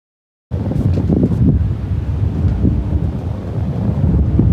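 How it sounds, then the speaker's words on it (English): Strong, gusting wind at an outdoor shooting range buffets the microphone with a loud, continuous rumbling roar that starts abruptly and never lets up. "And this wind is stout today."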